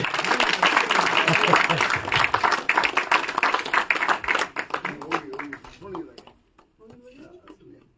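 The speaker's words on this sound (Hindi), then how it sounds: "जोरदार तालियों से स्वागत करें सारे" An audience at a political gathering breaks into loud clapping and applause that gradually thins out to scattered individual claps and fades to near silence, with voices briefly audible as it dies down.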